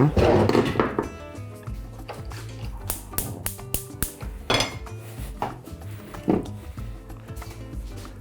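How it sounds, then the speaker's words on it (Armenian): A small cooking pot is handled in a kitchen while preparing rice pilaf, giving scattered metallic clanks, taps and dull thunks, close and fairly crisp, with a few louder knocks. "Վերցնում ենք փոքր կաթսա"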